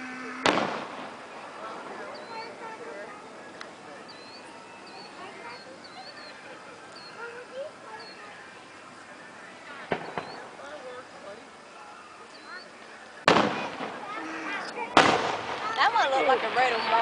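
Fireworks going off at a New Lexington display, a few sharp broadband bangs around the start, middle and end standing out over steady crowd chatter and outdoor background noise.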